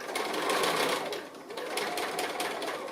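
A sewing machine stitches cushion binding at a corner, running in a fast, steady, close-up whir with a brief pause in the middle before it resumes.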